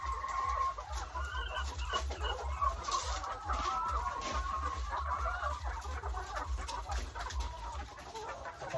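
Farm chickens cluck and squawk around feeding time, several birds calling irregularly at moderate distance over a low steady rumble, with no one speaking.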